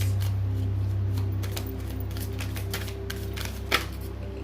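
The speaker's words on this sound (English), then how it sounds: "We're going to take 4 cards because 4 seems to be the number today" Tarot cards shuffle and get drawn in soft riffling, flicking snaps over a steady background hum, with one sharper card snap near the end.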